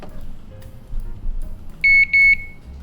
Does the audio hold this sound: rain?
no